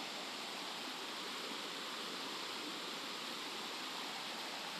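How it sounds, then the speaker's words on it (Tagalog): A flooded river rushes past in one continuous, loud broadband roar of churning water, steady throughout with no pauses. "Ayan yung ilog natin ngayon. Kaya lang hindi pa siya maputi, gawa ng baha eh."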